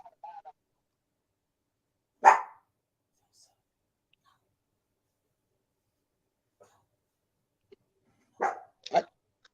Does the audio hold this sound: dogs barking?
yes